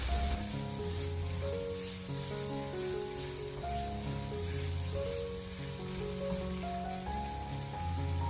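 Steady sizzling of soy sauce being stir-fried in a hot wok, continuous and close, with a soft melodic music bed running underneath throughout.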